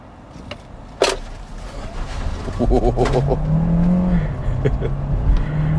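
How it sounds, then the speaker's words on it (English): A 2023 Kia Sportage EX Hybrid in sport mode pulls away from a red light, its engine and drive noise swelling steadily over a few seconds, with faint bird calls and brief outside noises around it. "this vehicle got off the line really quickly"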